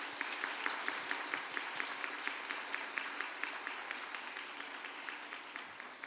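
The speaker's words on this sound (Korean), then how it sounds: "박수 하셔요" A church congregation claps together in a steady, rhythmic beat during a spring revival service, the applause even and sustained throughout with no talking over it.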